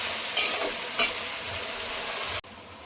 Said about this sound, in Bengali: এবার বেটে রাখা মশলাটা দিয়ে দেবো। মশলাটা দিয়ে কিছুক্ষণ ভেজে নেব।